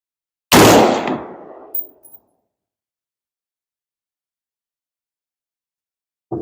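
Single sharp gunshot at an outdoor shooting range, loud and close, with a short decaying echo and a faint clink, followed by silence and another shot cut off at the end.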